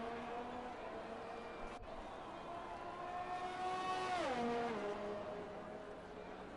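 A race car's engine whines and shifts pitch as it drives a hot lap in a sim racing game at an Australian circuit, heard faintly and steadily, with a gear drop and rev change midway.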